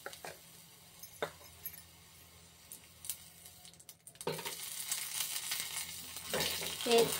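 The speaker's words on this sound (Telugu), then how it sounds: "జీడిపప్పు కిస్మిస్ వేసుకుని ఇలా ఫ్రై చేసుకుందామండి." Cashews and raisins fry in melted ghee, a faint sizzle that swells louder in the second half, with a few light clinks of a spoon against the pan, close up and without talk.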